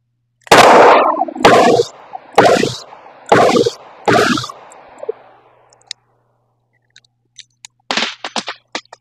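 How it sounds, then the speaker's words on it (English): A Ruger LCR revolver chambered in .38 Special +P fires five loud, sharp shots in quick succession, each with a short echoing tail, followed by faint clicks and handling noises. "This one is the Ruger LCR, and it's chambered in 38 Special plus P"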